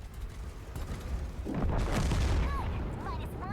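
A tank cannon fires in World of Tanks during a Halloween 2022 fun mode: a deep, rolling boom swells mid-clip over low rumbling battle noise, then fades into a faint whine.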